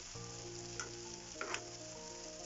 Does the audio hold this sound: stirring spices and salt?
yes